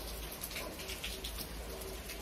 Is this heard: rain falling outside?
yes